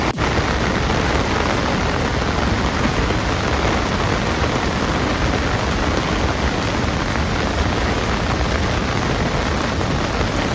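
Heavy rain at Salaulim Dam in South Goa roars in a thick, unbroken wash of noise, loud and near and perfectly steady throughout, with nothing else audible.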